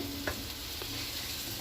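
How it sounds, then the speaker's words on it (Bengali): Slices of bitter gourd fry in oil in a pan, giving a steady close sizzle with a couple of brief clinks or scrapes from stirring, and no talking. "এই উচ্ছেগুলো ভাজছি।"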